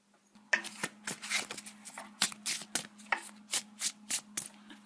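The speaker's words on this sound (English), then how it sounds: "I'm doing some total shuffles here. Just kind of messing them all up." Deck of playing cards being shuffled by hand, a quick series of crisp riffling bursts and soft slaps close up, a dozen or so in an irregular rhythm against a faint low hum, with no talking.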